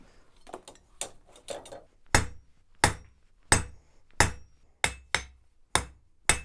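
A blacksmith at a heritage folk museum forging the tip of an iron leaf: a few lighter taps, then about eight heavy, ringing hammer blows on the anvil in an even rhythm, each decaying briefly.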